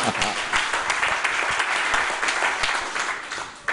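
Church audience applauds during a French-language sermon, a loud, dense burst of many hands clapping close by, holding steady for several seconds before trailing off near the end.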